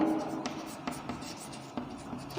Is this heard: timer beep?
no